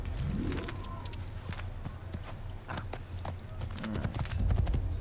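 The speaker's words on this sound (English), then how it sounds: "The horse will follow you." Horse hooves clip-clop steadily on the ground in the Assassin's Creed video game, a close, rhythmic run of hoofbeats that continues through the whole stretch with soft game ambience beneath.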